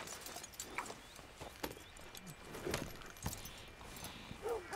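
Hooves of a saddled horse in Red Dead Redemption 2 clip-clop faintly and irregularly at a walk, low in a quiet outdoor game mix with scattered small knocks.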